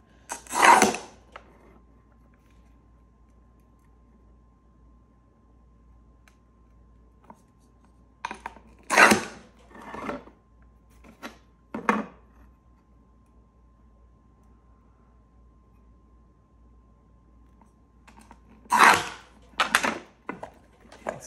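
A glass cutter scores bumpy textured glass on its smoother side in a few short, crisp scratching strokes with quiet pauses between them, fairly close and heard alone.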